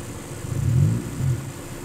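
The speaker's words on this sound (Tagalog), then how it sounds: "medyo bumaba na po masyado yung idle niya" A 90s Honda Civic engine idles very low and quiet, giving a soft, steady mid-low hum that swells gently twice over about two seconds, with no speech.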